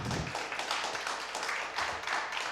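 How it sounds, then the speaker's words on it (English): Audience applause after a talk at a conference session, a short burst of scattered clapping from a small crowd, moderately faint and continuing for a couple of seconds. "Applause for you."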